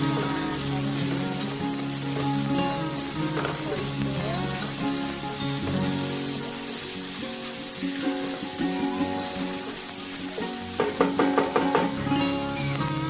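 Vegetables including broccoli stir-fry in a pan for chow pan, a continuous close sizzle with occasional scraping stirs and a burst of clattering near the end.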